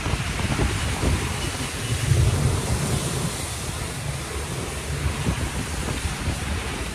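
Rain falls steadily on a safari vehicle in Tanzania, a dense, loud wash of patter mixed with wind buffeting, with no clear talk.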